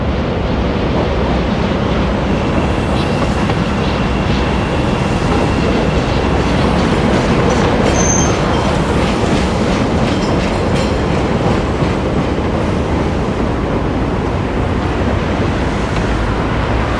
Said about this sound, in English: And here comes a Purple Line train.